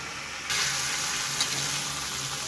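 Onions and spices sautéing for a meat curry, the onions cooked down soft in the pan: a steady, close sizzle that rises suddenly and holds an even hiss, with a brief louder crackle partway through and no talking.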